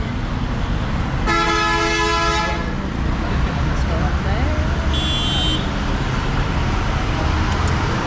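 A car horn blares in a steady harmonic tone for over a second, then a shorter higher beep follows, over constant roadway noise and murmuring voices on a street in Kandy, Sri Lanka.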